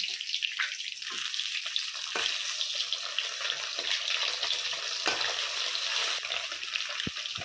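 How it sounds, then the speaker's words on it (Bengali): Fish fries in oil with a continuous hissing sizzle, soft crackles and occasional small pops, no voices. "মাছ ভাজা হয়ে গেছে"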